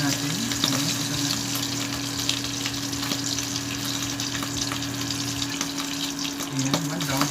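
Tuna eggplant omelette frying in a pan, a steady close sizzle with constant crackling that carries through the whole stretch alongside a low steady hum.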